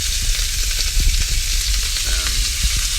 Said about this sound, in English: So in this one I'm using an iron to get a flattening effect to make sure that they cook evenly across